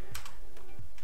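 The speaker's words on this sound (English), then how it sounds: "hit enter on the keyboard" A handful of quick keystrokes on a computer keyboard, close and crisp, clacking in a short, uneven burst.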